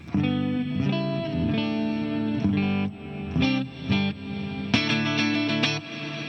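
Electric guitar chords played through a TC Electronic Hall of Fame 2 reverb pedal, with strummed bursts separated by short gaps where a washy reverb tail swells and rings on. The playing is close and loud, with no voice.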